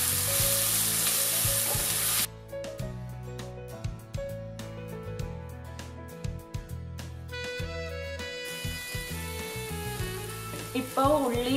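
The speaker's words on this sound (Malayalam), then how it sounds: "ഇനി വെളുത്തുള്ളി, ഇഞ്ചിയും പച്ചമുളകും ചുവന്നുള്ളി എല്ലാം കൂടെ നന്നായിട്ടൊന്ന് വഴറ്റിയെടുക്കണം." Garlic, ginger, green chillies and shallots sauté in a pan for a Kerala fish curry, giving a steady sizzle with stirring over background music.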